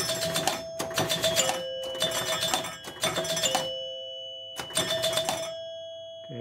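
Chimes on a Spirit of 76 pinball machine ring in quick clusters of bright, sustained dings, five bursts with short gaps and lingering tones between them, loud and close.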